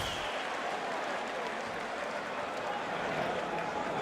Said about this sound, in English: as the crowd reacts to the replay